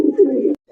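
A single red-eyed Gola pigeon gives one loud, close, throaty coo lasting about half a second, then stops abruptly.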